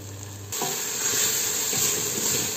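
Lentils being stirred in a pot on the stove, giving a steady close sizzle and hiss with faint scraping movements.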